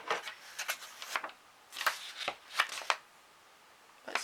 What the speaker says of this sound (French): Et après, on va juste découper.